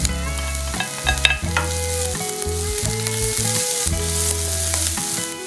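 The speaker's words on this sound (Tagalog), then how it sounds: "lutuin ko lang siya saglit. And isama ko na itong onion" Garlic and onion frying in a pan, a continuous sizzle with clatter and scraping from stirring, set against a loud tonal hum and background music-like tones.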